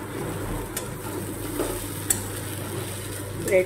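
Chicken kasha with potatoes being stir-fried in a pan, a steady close sizzle with scraping stirs throughout, no talking.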